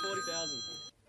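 A telephone rings in one sustained electronic ring that stops abruptly, with a voice faintly present underneath.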